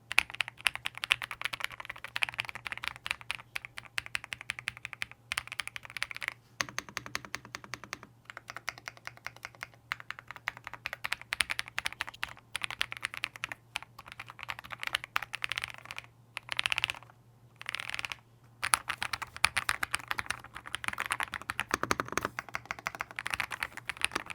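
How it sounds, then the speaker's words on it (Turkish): Rapid clattery keystrokes on an Ajazz AK820 Pro hot-swap mechanical keyboard, recorded close, with brief pauses between bursts of typing and a faint steady hum beneath. "Şu muazzam switchlerin sesini bir duyun istiyorum."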